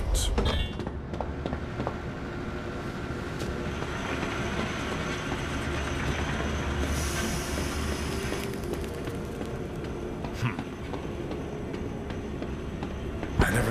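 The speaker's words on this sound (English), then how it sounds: "Now drag the trolley to the gates." A gadget trolley rolls on rails in the Zoochosis video game with a steady, rumbling rail clatter and occasional metallic clicks and squeals. The trolley keeps moving at a constant level throughout, and a voice is faintly present underneath.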